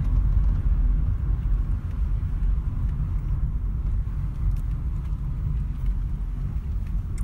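Steady low road rumble from a VW e-Up electric car cruising along a rough country road in France, a continuous close drone with no engine note and no talking.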